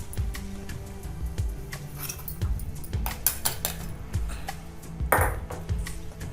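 A spoon mixes gram flour with hot ghee in a metal bowl, scraping and clinking in repeated uneven taps and rings, close up, with no one talking.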